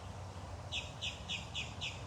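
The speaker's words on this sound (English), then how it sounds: "there's so many birds that come in" A small bird chirps outdoors at a big cat rescue, giving a quick series of five evenly spaced high tweets over faint background hum. Fairly quiet and close.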